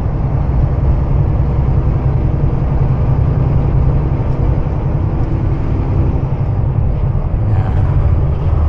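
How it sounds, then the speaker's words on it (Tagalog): Heavy road traffic with a truck passing close on the left, a loud continuous low rumble and engine drone from a vehicle in dense traffic, steady throughout without talk. "Ito, tuloy ng truck sa left side natin, dikit na dikit ka."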